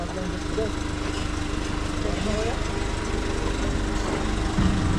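A motorcycle engine runs steadily close by, a constant mid-low drone that stays unchanged throughout while people talk faintly in the background.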